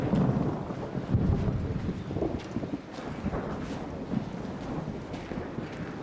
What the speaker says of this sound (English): It's a bit harder though with the storm.